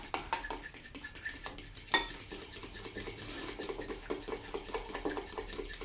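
Egg yolks being whisked with oil in a bowl, a steady run of quick clinking, scraping strokes against the bowl with one sharper knock partway through, close and moderately loud with no voices.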